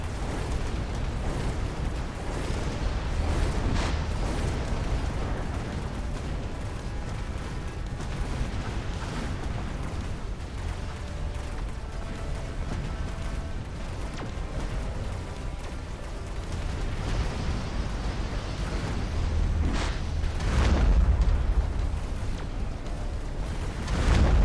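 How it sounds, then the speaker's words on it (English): Missiles blowing up in the strategy game Mechabellum: a dense, continuous barrage of booms and blasts layered over rumbling low noise, swelling louder toward the end with a few sharper bursts standing out. "Look at them all blow all those missiles."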